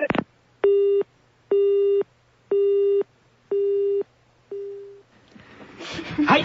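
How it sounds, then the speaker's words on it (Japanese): Telephone busy tone after a wrong-number call: five evenly spaced beeps with short gaps, loud and clear over a faint hum, then the line cuts off into background noise. "ごめん、夜長くん、これ間違い電話だ。"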